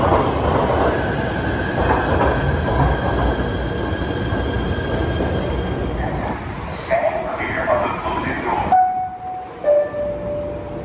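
A PATH train running under the river between Exchange Place and World Trade Center, a loud continuous roar of wheels and rails with high squeals, then braking tones and clatter as it slows.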